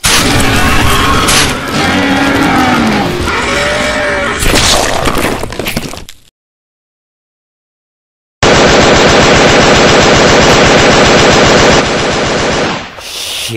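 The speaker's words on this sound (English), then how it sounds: "Who's firing?" Gunfire erupts in an animated web series battle scene: loud crashing and shattering blasts come first, then the sound drops out completely for a moment, and a dense, rapid machine-gun burst follows and rattles on for several seconds.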